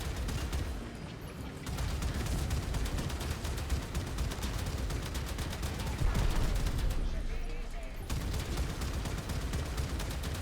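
Sustained gunfire from weapons in the Warframe video game, a dense continuous clatter of shots running the whole stretch with a brief lull near the middle.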